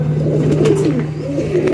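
Striped pigeons coo close by in soft, rolling, throaty phrases, with a low steady hum underneath.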